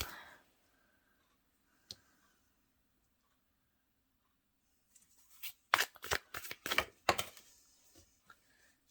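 Tarot cards shuffled in a run of quick crisp riffling bursts, close and fairly loud after a near-silent stretch with one isolated tap.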